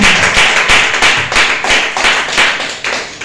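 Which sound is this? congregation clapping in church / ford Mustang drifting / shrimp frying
congregation clapping in church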